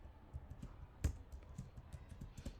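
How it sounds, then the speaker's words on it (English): Typing on a computer keyboard, with soft, quick, irregular key clicks and one sharper keystroke, heard close and quiet with no talking over it. "so I'm typing."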